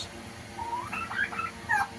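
Several short warbling turkey calls on a farm in Ullapara, Sirajganj, Bangladesh, rise and fall over a low background hum, moderately close and fairly quiet.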